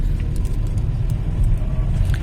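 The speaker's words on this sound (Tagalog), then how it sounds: "Traffic talaga dito." Road traffic rolls by in a steady, low engine rumble as cars pass close, continuous and fairly loud with no talking over it.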